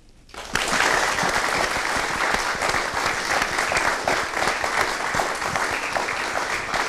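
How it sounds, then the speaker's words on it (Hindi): Loud, dense applause from a studio audience at the opening of a Hindi talk program bursts in after a brief quiet moment and holds steady and full for several seconds, with no talking over it. "मैं चाहूँगी कि एक ज़ोरदार तालियों के साथ आज हम अपनी इस प्रोग्राम की शुरुआत करें"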